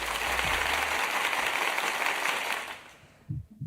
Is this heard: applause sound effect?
yes